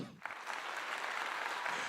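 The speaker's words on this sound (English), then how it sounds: "round of applause for Tilt again." Audience applause on a live rap talk show, a steady wash of many hands clapping that begins just after a brief moment and continues evenly to the end, moderately loud and without talk.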